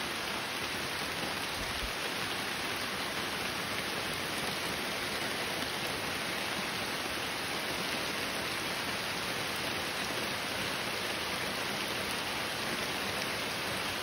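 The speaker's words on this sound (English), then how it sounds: "It's raining really hard." A hard, continuous rain downpour hisses evenly outdoors during a night frog hunt, loud and unbroken throughout with no talk.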